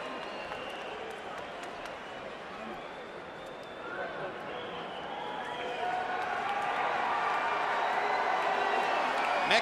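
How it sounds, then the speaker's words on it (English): Crowd noise from Mexican fans at the 2007 Pacquiao vs Barrera rematch boxing match, a sustained roar of booing in a large arena that swells louder toward the end. "Mexican fans booing Pacquiao as he stands up on the ropes to celebrate."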